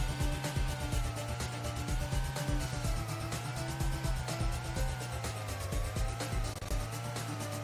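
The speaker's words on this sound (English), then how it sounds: "Most of the time you hear just the sounds of your car engine" A steady, droning car engine from a retro 1980s-style arcade racing video game hums continuously with wavering pitch, loud and close with no talking.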